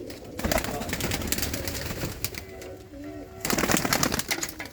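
Pigeons coo softly in a loft amid general background bustle and a voice, their low murmurs faint and intermittent beneath the talk.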